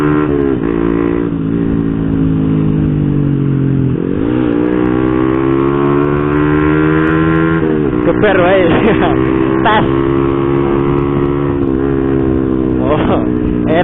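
Honda Revo motorcycle, stock engine with standard piston fitted with a BRT Type S1 camshaft, revving and pulling on a test ride, a steady close buzzing engine note that drops and rises again with throttle changes, while a rider speaks briefly over it.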